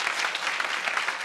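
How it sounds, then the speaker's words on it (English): An audience at a London event claps steadily and densely, a continuous wash of applause throughout the short moment. "You have to keep clapping."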